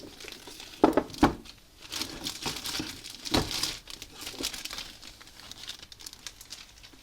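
Plastic packaging from a vintage box of BattleTech miniatures crinkles close by in short, uneven bursts, with a few sharper rustles near the start and softer handling noises after.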